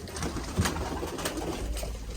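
Soft cooing from a tumbler pigeon kept in a loft, brief low calls rising once or twice over a steady wash of outdoor background noise, close by and fairly quiet.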